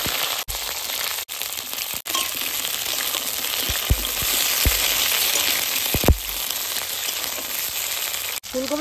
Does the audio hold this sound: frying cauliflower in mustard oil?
yes